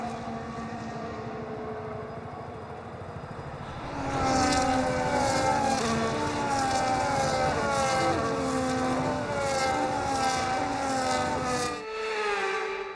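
Formula 1 cars from the F1 25 video game at the Dutch Grand Prix roll around on the formation lap, steady high-pitched engine whine with shifting tones that swells louder as the pack passes close, then cuts off near the end.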